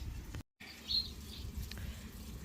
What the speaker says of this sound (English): They also have an aviary here. Here are the finches.